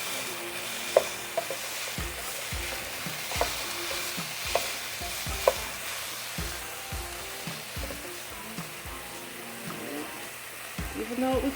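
Chicken and rice frying in a pan, stirred with a wooden spoon: a steady low sizzle broken by repeated scraping strokes and occasional sharp clicks of spoon against the pan, close and moderately loud.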